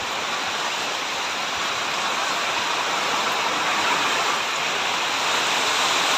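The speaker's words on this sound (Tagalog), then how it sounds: "Lakas ng ulan, lakas ng hangin," Heavy rain pours down alongside strong wind at a rural spot with a roof overhead, making a dense, continuous, loud hiss that holds steady throughout with no voices.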